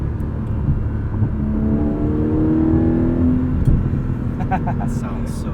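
Porsche 718 Cayman GTS 4.0 flat-six engine revving as the car accelerates, a steady rising drone heard close from the cabin with people talking over it.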